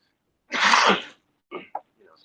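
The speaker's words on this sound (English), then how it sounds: "Dead air and raggedy cough." A single harsh, ragged cough bursts out close by, followed after a pause by a couple of short, quieter throat-clearing grunts, with no other sound around them.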